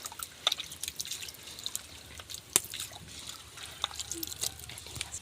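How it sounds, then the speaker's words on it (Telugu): Soaked tamarind is squeezed by hand to draw out its pulp, and liquid drips and trickles in scattered small splashes. The sound stays quiet and close throughout. "ఇప్పుడు నానబెట్టుకున్న చింతపండు అయితే మనము ఇలా గుజ్జుని అయితే తీసుకోవాలి."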